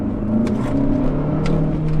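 A Renault Captur 1.3 TCe with a 140 hp engine and automatic EDC gearbox accelerates, heard from inside as a loud, steady low engine drone with faint tonal whine and no talk.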